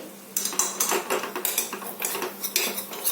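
Ragi flour roasting in oil in a pan, stirred briskly with a metal utensil that scrapes and clinks against the pan in a quick rhythmic series of close, fairly loud strokes over a faint low hum.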